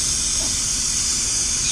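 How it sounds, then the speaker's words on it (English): A continuous aerosol hiss of chain cleaner spraying onto the drive chain of a Triumph T120 motorcycle, steady, close and uninterrupted throughout. "Spray it all over the chain."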